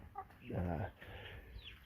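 Chickens in a backyard garden pen and run give a few soft clucks and throaty calls, close and fairly quiet, with a brief higher chirp near the start.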